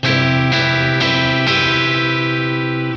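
A guitar chord strummed down four times at an even pace, each stroke letting the chord ring into the next, with a light overdriven edge.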